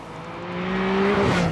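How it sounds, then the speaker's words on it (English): A Porsche 911 GTS engine revs up, its tone climbing smoothly over a second and a half before dropping off, heard close from inside the car. "you hear more of that engine noise"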